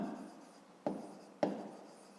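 A pen or marker writes out a multiplication expression for a 5th-grade maths exercise, a faint rubbing stroke broken by two sharp taps as marks are made.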